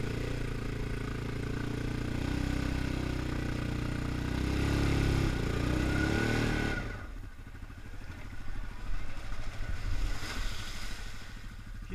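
A Yamaha quad ATV engine labouring uphill, a loud steady drone with rising pitch that drops away suddenly into rough, rattling idle-like chugging and clatter, close to the microphone.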